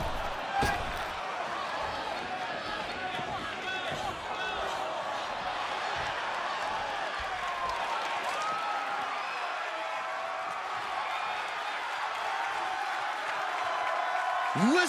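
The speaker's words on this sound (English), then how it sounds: "Listen to that crowd!" Wrestling arena crowd in the WWE 2K24 video game, a loud sustained roar of cheering and whooping that rises and swells throughout, with an announcer's voice intermittently under it.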